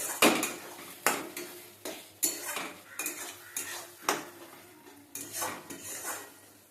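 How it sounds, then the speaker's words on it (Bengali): Spice paste with garlic is stir-fried for chicken kosha with potatoes, a spatula clanking and scraping against the pan in repeated sharp strokes about once a second over a low sizzle, close and alone. "এরপরে ভালোভাবে আমরা আরেকটু কষিয়ে নেব মশলাটাকে"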